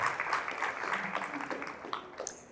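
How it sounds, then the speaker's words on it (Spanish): A church congregation at a Spanish-language service gives loud applause to Jesus, a fairly quiet wash of clapping that fades gradually, with faint voices mixed in. "Dale un fuerte aplauso a Jesús una vez más."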